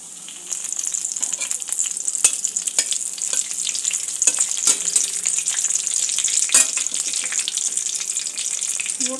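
Whole spices, cumin and dried red chilli, sizzle and crackle in hot oil for a Bengali pulao, a close, steady frying hiss with scattered sharp pops throughout.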